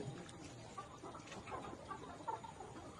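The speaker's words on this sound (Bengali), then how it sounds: "ভ্যাকসিন পরিপূর্ণ লেয়ার মুরগি" Fully vaccinated layer hens on a poultry farm cluck steadily in a soft, continuous chorus with occasional sharper calls, fairly faint and without talk.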